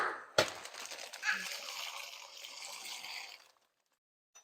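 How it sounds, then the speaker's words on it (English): Dry pasta tossed into a pot of boiling water for a beef pasta bake, a sharp clatter at the start followed by a steady bubbling, sizzling wash that cuts off abruptly, close and moderately loud. "Our water's boiling, so we're gonna throw in the pasta."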